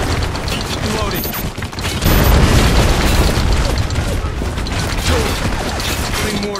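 Mortar rounds firing and exploding in the war shooter Spec Ops: The Line, set within loud, continuous battle noise with heavy booms, mechanical clatter and gunfire, swelling louder after the first couple of seconds.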